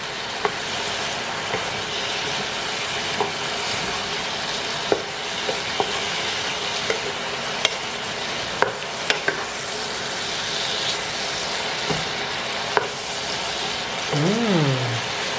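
Sponge gourd and mushrooms stir-frying in a pan, a steady sizzle with scattered scraping clicks from a utensil, a brief voice-like sound near the end.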